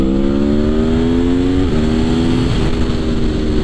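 A 2021 Aprilia Tuono V4 Factory motorcycle roars loudly and continuously while being ridden, its engine pitch holding high with a couple of quick shifts, wind rushing throughout.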